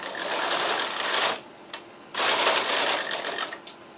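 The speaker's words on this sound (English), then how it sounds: "I'm just going to go across and knit 1 row once to verify that the selection of needles is exactly what I want." A knitting machine carriage knitting a row of burgundy mohair on a ribber, a loud continuous mechanical whir and rattle that pauses briefly, clicks, then sweeps across again close by.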